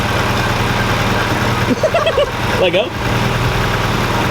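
A car engine idles in first gear while one wheel spins freely, a steady low rumble that runs throughout. Voices talk briefly over it.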